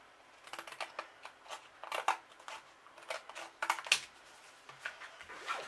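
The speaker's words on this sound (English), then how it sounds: "So let's get my scissors." Scissors snip through card while Christmas cards are made by hand, a run of quick, close, crisp cuts and rustles in an irregular rhythm, with no talk.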